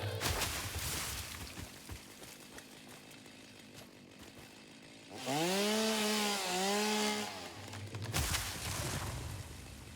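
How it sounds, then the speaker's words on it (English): A chainsaw in the video game Satisfactory revs steadily, with a loud, rising whine in the middle of the stretch over continuous game noise. "The chainsaw."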